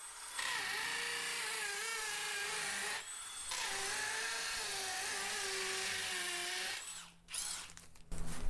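A power drill bores a hole for a handrail, whining steadily and loud in two long runs with a brief stop between, then slowing and cutting out in short bursts near the end.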